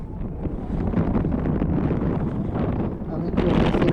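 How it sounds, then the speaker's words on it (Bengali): Loud, strong wind at Tanguar Haor roars and buffets the microphone in a continuous rumbling rush, swelling slightly toward the end. "এখন খুব বাতাস হচ্ছে তো এই বাতাসটা আমরা উপভোগ করছি"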